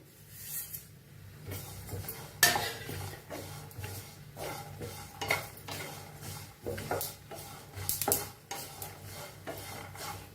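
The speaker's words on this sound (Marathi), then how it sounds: "आता शेंगदाणे चांगलं भाजायला आहे, त्याच्यातच खोबरं भाजून घेऊया" Peanuts, coconut and sesame seeds dry-roasting in a pan, a faint, continuous scraping and rustling as the mixture is stirred, with small clicks of the spoon against the pan.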